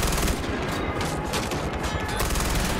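Rapid sustained gunfire from a weapon in the video game Far Cry 4, a dense, loud burst of shots running continuously throughout with no talk over it.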